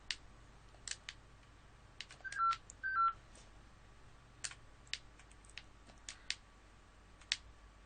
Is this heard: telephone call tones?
yes